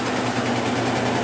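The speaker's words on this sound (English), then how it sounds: "This washer only has 1 spin speed, and it's fast, as you know. This thing is flying." A 1996 Maytag Dependable Care Plus top-load washer spinning at its single fast spin speed, giving a steady, loud whirring drone with an even mechanical hum throughout and no voices.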